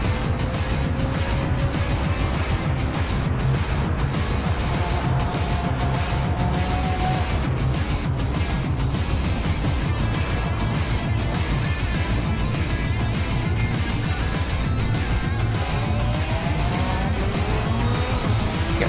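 Two Lotus race cars duel on track in a racing video game, their engines droning steadily and close, with pitch sweeping up and down through gear changes, plus occasional tire squeal.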